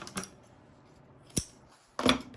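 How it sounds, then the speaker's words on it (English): Three sharp scissor snips cut a zipper being trimmed for an in-the-hoop satchel bag, close and crisp, spaced out with quiet pauses between cuts. "We're going to trim our zipper some."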